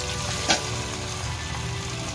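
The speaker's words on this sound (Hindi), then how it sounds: "अब इन्हें हम डीप फ्राई करेंगे।" Sama millet balls deep frying in hot oil over a medium flame make a steady close bubbling sizzle, with one brief louder hiss as oil is stirred or spooned over them.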